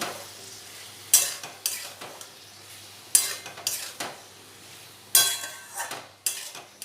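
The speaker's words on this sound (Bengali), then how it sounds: "হলুদ গুঁড়ো, দিয়ে ভালোভাবে নাড়াচাড়া করে ভেজে নেব।" Vegetables with turmeric powder fry in a pan while being stirred, a low sizzle broken by about six sharp metallic scrapes and clanks of the spoon against the pan at irregular intervals.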